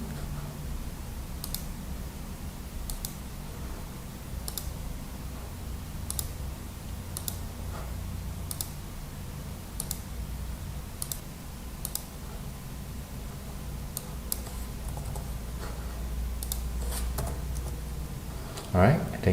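Computer keyboard typing while entering credentials into an online claim form: sparse, light key clicks spaced across the stretch, fairly faint over a steady low background hum.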